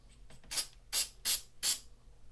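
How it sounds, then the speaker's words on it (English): Activator is sprayed onto a 3D printed part in four short hissing bursts, each about a fifth of a second, close and fairly soft over a quiet room hum. "let's spray a little bit of activator on this"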